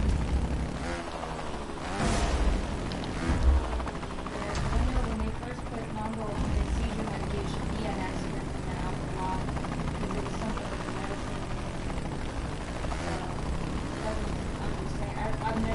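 A motorbike engine in the video game Trials Rising hums and buzzes at very light throttle with small rises and dips, while a voice talks over it.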